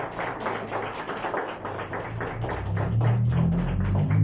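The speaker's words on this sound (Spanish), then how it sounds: "¿Cuántos le dan un aplauso al Señor?" A church congregation applauding during a Sunday service, a dense, steady clatter of many hands clapping at once, with a low hum or music that grows louder toward the end.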